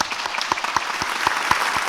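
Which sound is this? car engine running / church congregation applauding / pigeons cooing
church congregation applauding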